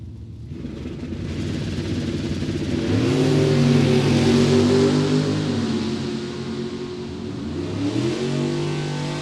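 Drag race cars, a 1969 Barracuda and a 1968 Camaro, roar down the strip with engines revving hard, a loud rising and falling rumble that swells mid-run and then fades.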